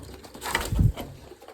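A pigeon gives a single soft, low coo close by, a brief throaty murmur rising and falling within a second over a quiet background.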